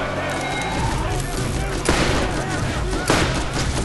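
Sniper revolver fire in Borderlands, two sharp loud shots spaced about a second apart over dense game noise, with a person talking over the action.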